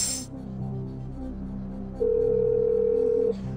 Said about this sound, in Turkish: Evet, çalıyoruz Suat Yeşilyurt'un telefonu.